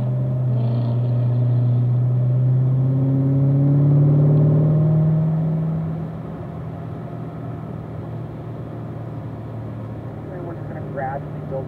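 Corvette accelerating on a racetrack during a driving school session, a loud low engine drone that rises in pitch and swells, then eases back to a steady rumble as it shifts up, with talk over the top.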